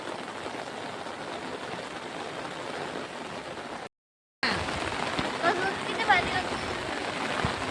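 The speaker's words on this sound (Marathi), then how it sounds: "पाऊस बघा किती भारी लागलेला आहे" Heavy rain pours down in a dense, continuous hiss, briefly cut out midway before returning just as strong.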